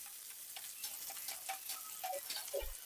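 Green chillies fry in hot oil in a pan for a home-made chicken biryani, giving a soft, steady sizzle with faint crackles and a small clink near the end.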